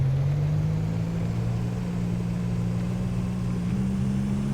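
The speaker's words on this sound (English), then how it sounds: "Engine doesn't sound any different. I'm flooring it." Steady engine drone from a delivery vehicle held at full throttle in Easy Delivery Co., a constant loud hum with a slowly rising pitch and no break, running alone without talk.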